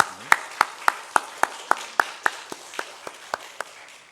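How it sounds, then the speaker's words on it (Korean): A church congregation in a Korean worship service claps in thanks, with sharp, evenly spaced claps landing together in a steady rhythm of about three to four per second, crisp and fairly close, gradually softening toward the end. "말씀을 저희에게 주신 하나님께 우리 이 시간 감사 박수를 올려드리면 좋겠습니다."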